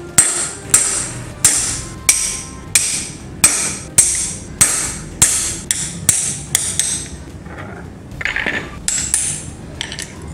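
Hammer tapping on a motorcycle front handlebar cone part during repair, a steady series of about a dozen sharp metallic strikes, close and loud, followed by a few scattered lighter taps.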